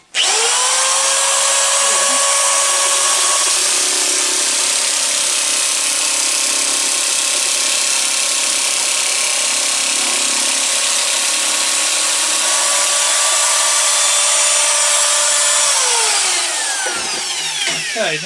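Lidl Parkside PMK 550 A1 electric nibbler cutting sheet metal, freshly oiled, a loud steady high-pitched whine with a harsh chattering edge running continuously for most of the stretch before winding down near the end, no talk over it.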